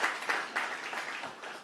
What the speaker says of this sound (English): you could give her a round of applause